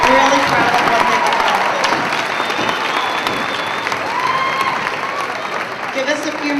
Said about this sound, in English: Let's give our 6th graders one more round of applause.